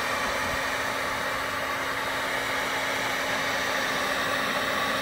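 A heat gun blows with a steady, even roar and a constant mid hum while warming a faded Pontiac Solstice door panel. The sound is close and continuous, with no speech.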